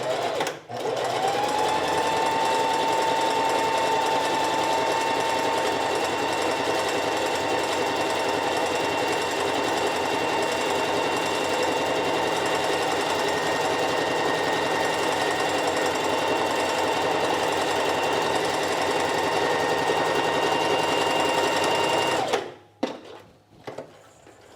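A sewing machine runs continuously at steady speed, stitching over the seam of an invisible zipper with a 2.5 stitch length and backstitching, a loud, close mechanical whir that stops abruptly near the end with a few clicks.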